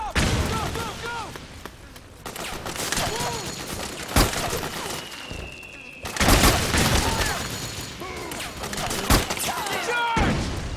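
Gunfire from the Metal Gear Solid 4 video game: rapid automatic bursts and sharp single shots crackle close and loud throughout, with soldiers shouting over the battle.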